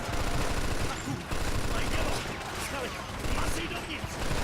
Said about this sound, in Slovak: prepáčte, že tento gulomet vám asi tak húkoce